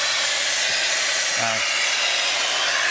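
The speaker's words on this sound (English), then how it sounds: "I think I'm going to swap back to the OG vacuum" A vacuum cleaner with very strong, aggressive suction runs steadily during car interior detailing, a constant loud airy roar with a brief tonal change partway through.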